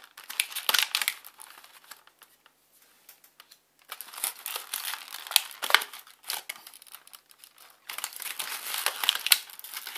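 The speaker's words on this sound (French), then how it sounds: "On ouvre votre paquet." Crinkly plastic wrapping on a card game package is torn and opened, a series of close, loud rustling and crackling bursts broken by brief quiet pauses.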